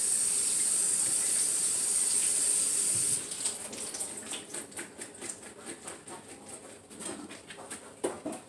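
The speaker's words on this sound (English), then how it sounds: "I'm going to go ahead and rinse my potatoes." Potatoes rinsed under a running kitchen tap, a steady hiss of falling water that turns to choppy splashing as the potatoes are handled in the stream, with no talking.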